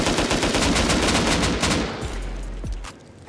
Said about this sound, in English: All right, let's shoot it now.